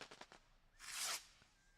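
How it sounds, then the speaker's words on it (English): Fireworks set off in celebration after a club cricket match win in Chicago: a quick run of sharp crackling pops, then a brief loud hissing burst, heard fairly distant and faint. "And the fireworks go off here."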